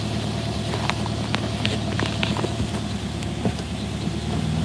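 A Mercedes W123 engine runs steadily while warming up, a low, even idle rumble close by with faint clicks and rattles over it and no one speaking.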